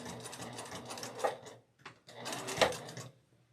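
A sewing machine stitches a quilt placemat, running in steady fast bursts with a short pause and a back stitch, close and clear with no talking.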